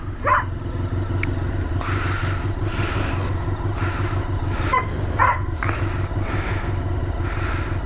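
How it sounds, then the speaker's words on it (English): A dog barks several times at irregular intervals, moderately near, over a steady low rumble of an idling motorcycle engine. "there's gonna be some barking here"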